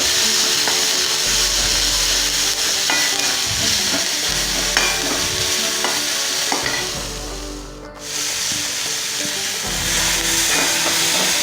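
Chopped onion and green chillies sizzling and frying in a pan in a home kitchen, a steady crackle with periodic scraping stirs and a brief dip in the sizzle partway through.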